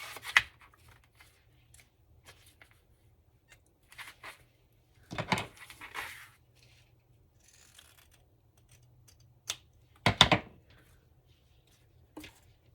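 Scissors cut pieces of material for a handmade journal cover, with a few sharp, close snips and rustles spaced apart by quiet pauses.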